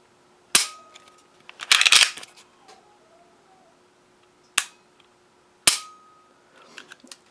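A CZ P-10C pistol trigger snaps with several sharp, close clicks, spaced apart with quiet gaps, including a brief cluster of mechanical clatter.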